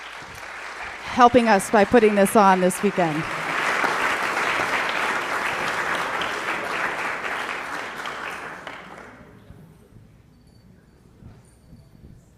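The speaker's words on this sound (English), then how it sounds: "let's give them a big round of applause" At a Cosmic Reunion 2012 gathering, a crowd breaks into loud sustained applause welcoming sound healing meditation guides, starting under a speaker's closing words and rolling on for several seconds before fading into quiet.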